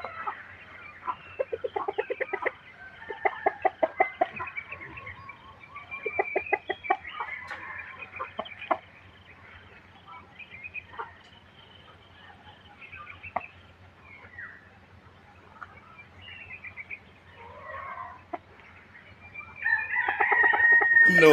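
Chickens cluck in quick bursts, with a rooster crowing in between, close by and fairly quiet, with louder flapping and squawking near the end.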